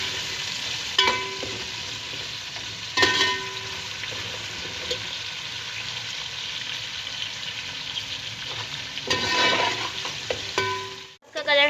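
Chopped onions fry steadily in a hot pan for matar pulao, cooked only to a light pinkish colour. A continuous close sizzle runs throughout, broken by a few louder stirring scrapes.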